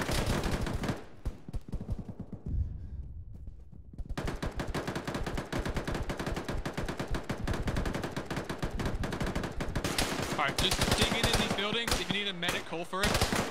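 Sustained, dense gunfire in the tactical shooter Arma, with rapid automatic shots continuing almost without a break, a short lull early on, then heavier overlapping fire toward the end.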